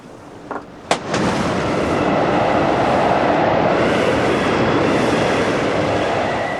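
Storm at sea during a long sea voyage: after a quiet moment and a sharp crack, a loud, sustained roar of wind and crashing water swells up and holds steady.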